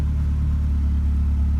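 A turbocharged car engine warming up at idle, a loud, steady low rumble that holds an even pulse with no revving for the whole moment.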